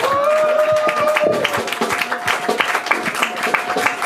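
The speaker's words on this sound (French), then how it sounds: "est-ce qu'on peut acclamer Jésus parce que la fête va commencer?" A church congregation at a French-language consecration service applauds to acclaim Jesus, with dense rhythmic clapping from many hands, steady and fairly loud, and a sustained voice or tone running beneath it at the start.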